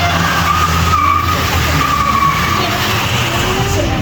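Car tires squeal and skid during drifting at a car meet, a loud sustained screech over a revving engine with crowd noise faintly in the background.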